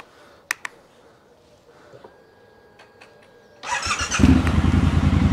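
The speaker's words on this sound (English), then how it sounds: "I can go and have no problem to start the bike." Triumph Scrambler 1200 X motorcycle starting in gear with the clutch pulled: a few faint clicks, then the engine cranks and catches into a loud, steady close idle.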